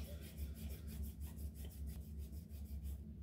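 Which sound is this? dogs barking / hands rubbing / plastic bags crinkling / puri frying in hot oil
hands rubbing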